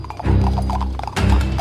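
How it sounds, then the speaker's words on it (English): Restless horses pulling a wagon clatter with quick hoofbeats and clip-clop over a low rumbling roll, with a brief whinny-like cry, loud and close throughout. "Try to rein in the horses before the wagon overturns."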